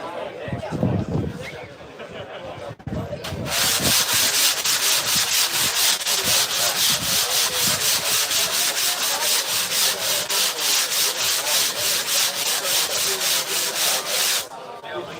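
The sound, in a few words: sanding a surfboard with 40 grit sandpaper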